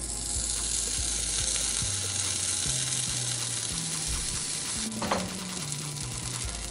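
Butter sizzles steadily in a hot frying pan while sandwiches cook, a constant close frying hiss with a few soft clinks and scrapes of a utensil, no voices.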